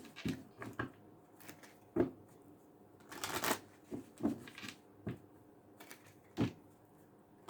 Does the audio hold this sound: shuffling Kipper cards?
yes